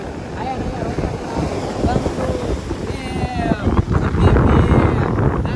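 Wind buffeting the microphone on the seashore at Diu, with the steady wash of the sea underneath, continuous and loud, while people chat faintly in the background.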